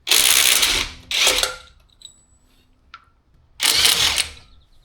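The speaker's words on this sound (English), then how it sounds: "I'm using an impact driver to pull all the lugs off once the vehicle's in the air." An impact driver removes lug nuts from a raised 2024 GMC Canyon in three loud rattling hammering bursts separated by quiet gaps with small clicks and clinks.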